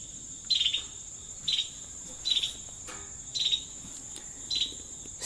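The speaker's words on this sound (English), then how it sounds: "I don't know that bird." An unidentified bird calls outdoors, five short, high chirps spaced about a second apart over a steady background hiss.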